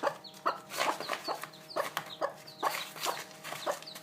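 A broody Silkie hen clucks softly and repeatedly with her chicks, the low clucks coming in a close, uneven rhythm while faint high peeps flicker between them; no one speaks.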